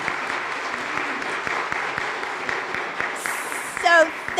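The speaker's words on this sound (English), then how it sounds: "So can we clap for them?" A church audience claps for a preschool group in a steady burst of applause, with a voice speaking over the clapping and a short high squeak near the end.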